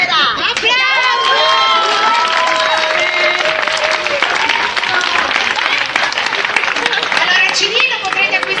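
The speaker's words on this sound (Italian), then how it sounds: "Applauso!" Loud applause and cheering from an audience at the final performance of a village theatre course, with children's shouts and whistling voices mixed into the clapping throughout.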